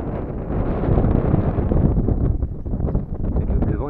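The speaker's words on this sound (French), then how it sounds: "Là, il y a du vent, ça va saturer le micro." Strong wind buffets the microphone in a mountain cirque valley, a loud low roaring rumble that surges and dips steadily, alone without talk.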